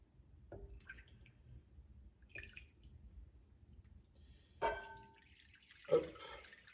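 Water poured into a bowl for apricot sourdough dough: a few separate short splashes and trickles close by, with a louder pour near the end and quiet between.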